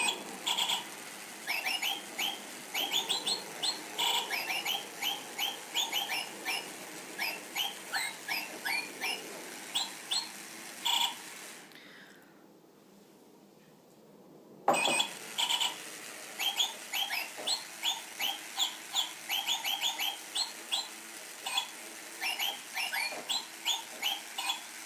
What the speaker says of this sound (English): Here's Jingle Bird's third song